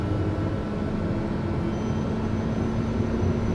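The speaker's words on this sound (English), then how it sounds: "The TBM takes a little bit longer to wind up compared to the Caravan." A TBM turboprop airplane engine starting after sitting overnight, a steady broadband roar with a low hum, while a thin high whine climbs in as the turbine winds up.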